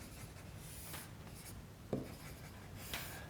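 A pen or pencil draws a function graph on paper, making quiet, continuous scratchy strokes with a brief tap as it lifts and touches down, close and alone without speech.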